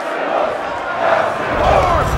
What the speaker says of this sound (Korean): 그 모습에 관중들은 그를 더욱 응원하는데